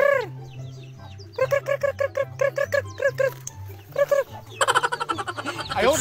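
Chickens cluck in quick bursts and short runs, fairly close, over a low steady hum.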